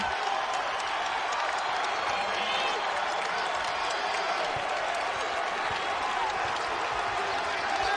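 A basketball arena crowd at a UConn game roars with steady cheering and applause during a scoring run, a dense, unbroken wall of noise with a commentator talking over it.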